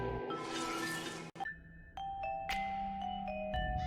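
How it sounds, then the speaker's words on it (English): A doorbell rings with a bright ding-dong chime, its tones ringing out clearly and alone over a quiet background. "Callie rings the doorbell."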